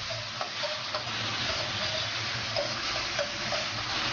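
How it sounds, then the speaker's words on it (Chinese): Pork intestines stir-fried over high heat with chili bean paste, Sichuan pepper, ginger, garlic and pickled chilies, giving a steady close sizzle with repeated scraping strokes of a spatula against the wok, no voices. "大火给它继续翻炒"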